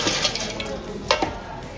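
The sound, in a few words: chicken pieces being stirred and fried in a pan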